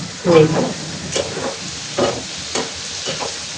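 Bitter gourd and chopped garlic frying in a pan, a short burst of sizzle and spatula scraping followed by quieter intermittent stirring clatter, close and fairly loud.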